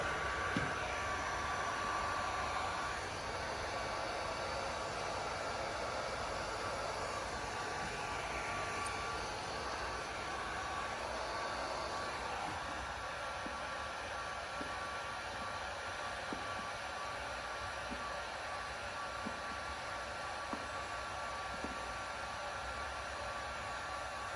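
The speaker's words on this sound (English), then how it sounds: "Then come on top with the heat gun and seat that material up there." A heat gun blows steadily on wrap material over the window molding trim of a 2014+ Jeep Cherokee during a chrome delete, giving a constant, fairly quiet airy hiss with no talking.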